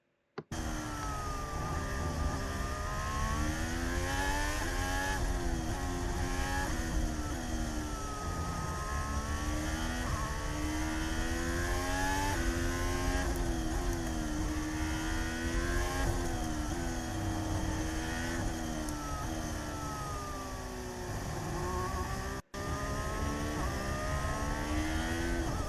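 Onboard Formula 1 engine note from Latifi's car at Abu Dhabi in 2021, a loud continuous whine that climbs and drops through the gear changes, with a brief cut near the end and no voices.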